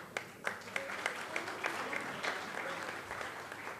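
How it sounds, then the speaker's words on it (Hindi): Audience applause at an award ceremony in the Constitution Club of India, a few seconds of dense, fairly close hand clapping with sharp individual claps standing out, no speech over it. "ये ताली अंशुमान की थी"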